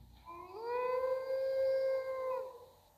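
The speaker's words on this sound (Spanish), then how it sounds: "Me encanta ese aullido." A wolf in the video game The Wolf gives one long, clear howl that rises, holds steady for about two seconds and then drops away, loud and close against a quiet background.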